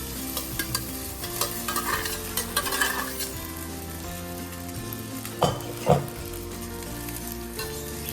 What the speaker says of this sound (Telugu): ఇలాగా అన్నం అంతా వేసుకుని కలుపుకోవాలి.